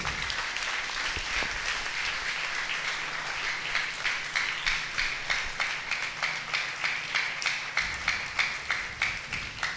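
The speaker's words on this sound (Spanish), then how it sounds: "A su nombre, bríndele un aplauso a nuestro Dios." A church congregation applauds steadily, the clapping settling into a rhythmic unison beat toward the end, filling the room.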